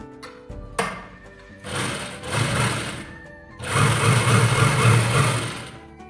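A sewing machine runs in bursts while top-stitching a chudidar salwar, pausing between passes. It ends in a longer, louder steady run of whirring stitches up close.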